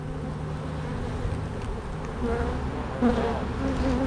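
Honey bees swarm around an opened hive during an inspection, a thick, continuous buzz close to the ear with individual bees droning louder as they pass.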